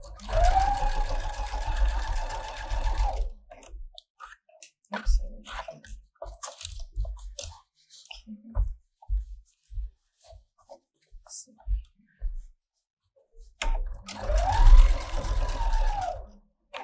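A sewing machine runs in two steady bursts, at the start and again near the end, stitching the back yoke of a pajama top, with quiet fabric handling and clicks in between.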